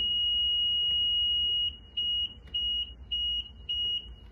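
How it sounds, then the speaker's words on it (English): A tractor sounds a loud, high-pitched electronic tone as the key is turned. A long steady beep gives way to a run of about five evenly spaced short beeps, heard close up. "when I turn it, it's going to beep, and I'm going to let it beep a full cycle before I start it"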